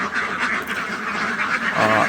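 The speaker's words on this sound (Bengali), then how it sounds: "আমার প্রায় এখন এক হাজার হাঁস আছে" A large flock of about a thousand farm ducks quacks together in a dense, continuous chorus of overlapping calls, close and fairly loud.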